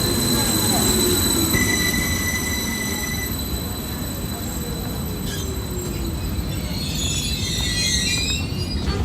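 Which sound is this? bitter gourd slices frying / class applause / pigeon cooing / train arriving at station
train arriving at station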